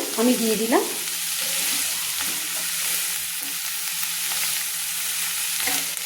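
Chopped tomatoes sizzle and fry with vegetables in a pan for a spicy egg pasta, with a steady hiss and the scrape of stirring throughout; someone briefly speaks at the start.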